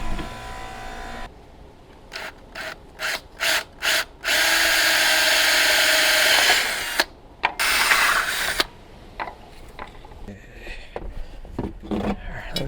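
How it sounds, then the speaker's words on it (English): A power drill bores new holes in a rail for a bed mount, starting with several short trigger bursts, then a long loud sustained whine, followed by further brief pulses and faint handling clatter. "I need to drill new holes on the rail for this fitment"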